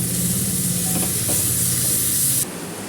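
Green chilli, crushed with ginger and garlic, stirred as it fries in hot oil, giving a steady loud sizzle and hiss with light scraping of the spoon, the sizzle suddenly dropping away near the end.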